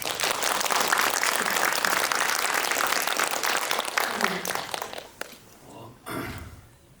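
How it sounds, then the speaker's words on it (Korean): A cinema audience at a guest-visit screening of the Korean film Harbin claps loudly and densely for several seconds before the applause dies away into quieter room noise with a few stray sounds. "박수 쳐주세요"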